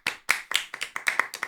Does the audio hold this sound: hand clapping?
yes